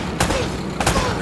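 Gunfire in Uncharted: Drake's Fortune, two loud sharp shots roughly half a second apart over a dense, noisy background of game action.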